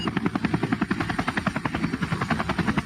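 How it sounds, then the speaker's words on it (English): A helicopter flying over an ocean search thuds with a fast, steady rotor beat, loud and close, alone without voices. "This has been an intensive search in the air with helicopters, on the water, and on land as well for Sudiksha Konanki"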